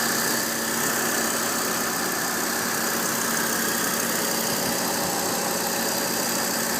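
A 2011 Volvo C30 T5 R-Design with a turbocharged 2.5-liter five-cylinder engine idles steadily nearby, a constant, even hum with no talking.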